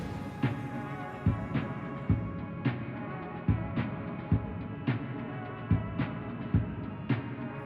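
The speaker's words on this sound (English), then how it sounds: "all those sounds are going through this like telephone EQ, and then just through some reverb as well, some plate reverb" A music group's sound, filtered through a thin telephone-style EQ and washed in plate reverb, pulses with a steady beat of heavy rhythmic hits under sustained tones, distant and roomy, for a rescore of the ARC Raiders launch trailer.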